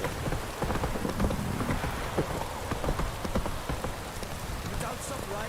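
Steady rain patters down in a video game, a dense wash of drops on surfaces with faint rumbles of thunder, continuous and moderately quiet, with a voice talking now and then over it.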